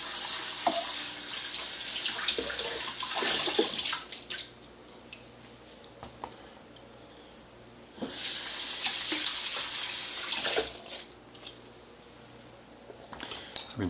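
Tap water runs from a kitchen faucet onto green peppers being rinsed in a sink, a steady hiss in two long bursts with a quieter drippy gap between them and soft clinks near the end.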